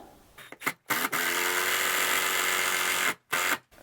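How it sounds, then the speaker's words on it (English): A power drill drives large 3-inch wood screws while a ceiling fan is installed, giving a loud, steady whine that runs for more than two seconds, with short bursts of the motor before it and one brief burst after. "I got a couple big 3-inch wood screws that I'm gonna put in there"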